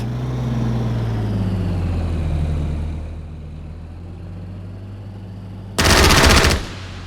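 Machine gun fire in the strategy game Strategic Mind: Spectre of Communism: after a steady engine drone and a quiet stretch, one sharp, loud burst of rapid shots lasts under a second.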